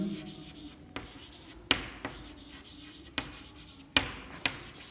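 Chalk or marker strokes on a board during a Class 10 chemistry lesson on carbon compounds and functional groups, several sharp taps and short scratchy strokes spaced apart, close, over a quiet room hum.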